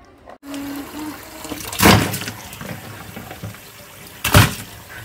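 Water runs and splashes as goat legs are washed clean in a kitchen, a quiet trickle broken by two louder gushing bursts.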